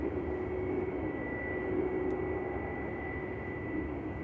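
An SAS airliner in old livery, inbound from Copenhagen, passes over Cheadle on approach to Manchester Airport, a steady distant broadband engine roar with a faint tonal whine throughout.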